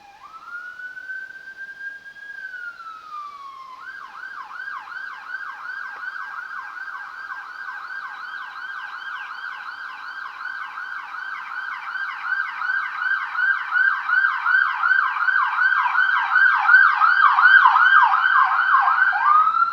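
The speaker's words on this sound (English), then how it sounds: "I think I can hear sirens." Emergency vehicle sirens wail outside, one starting with a steady rising tone and then switching to a fast warbling yelp that grows steadily louder as it approaches, continuous for about twenty seconds with no talking.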